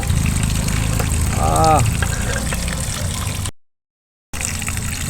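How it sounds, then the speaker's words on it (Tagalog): Rushing water gushes and splashes continuously from a cracked, leaking pipe while someone speaks over it, cut by a brief moment of silence before the flow resumes. "Uy, lakas ng tubig ah."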